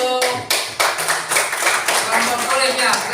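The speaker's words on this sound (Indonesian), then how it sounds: "Kasih tepuk tangan dulu untuk" Loud clapping from a group in a classroom setting, a dense continuous burst of hands with sharp onsets, lasting a few seconds, with voices mixed in.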